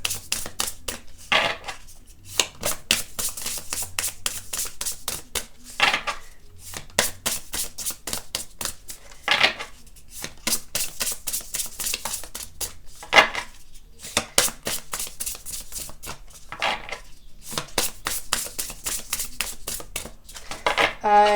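A deck of tarot cards is shuffled repeatedly in quick riffling bursts with short pauses between, crisp and close, with occasional soft taps of the deck.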